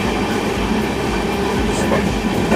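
A loud, steady rumble of a train in motion, with a continuous rolling roar of wheels on the track.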